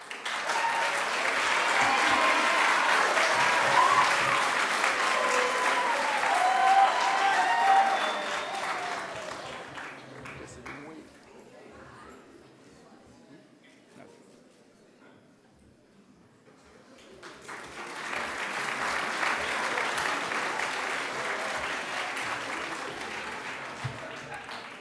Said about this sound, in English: please join us in a round of applause for all our award recipients